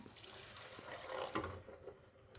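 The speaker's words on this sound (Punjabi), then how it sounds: "ਪਾਣੀ ਆਪਾਂ ਇਹਦੇ ਵਿੱਚ ਗਰਮ ਪਾਉਣਾ ਹੈ" Hot water pours into a pan of pea curry with cashews and mawa, a soft, faint, continuous splashing gush heard close up.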